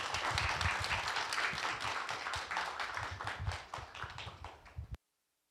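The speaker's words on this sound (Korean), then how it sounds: "박수로 환영해 주십시오." An audience at a public residents' hearing in Korea claps steadily for about five seconds, a dense patter of many hands close by that thins slightly before stopping abruptly.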